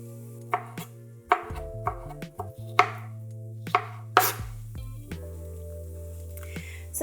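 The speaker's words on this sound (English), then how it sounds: "So cut up both of the tomatoes this way." Knife chopping tomatoes into small cubes on a cutting board: a steady run of sharp, irregular chops and knocks, close and clear, over soft background music.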